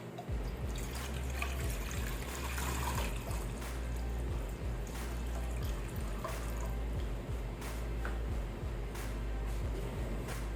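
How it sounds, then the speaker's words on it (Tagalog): Water poured into a cooking pot while preparing a tuna head in tamarind soup: a steady, close liquid splash and trickle running throughout, with a low background hum and no talk. "Maglalagay tayo ng tubig."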